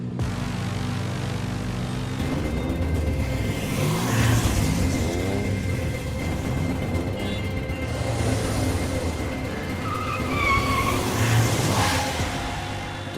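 Car with failed brakes, a continuous engine roar with rising and falling pitch sweeps and two louder surges, heard alone without voices.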